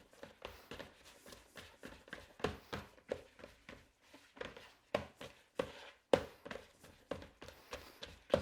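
Homemade flour-and-water play dough squished and kneaded by hand: steady soft slaps and squelchy pats in an irregular rhythm, close and fairly quiet, with no talking.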